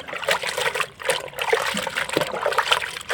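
Fresh pumpkin leaves are rinsed by hand in water, with steady splashing, trickling and sloshing close up and continuous for a few seconds, and no talk.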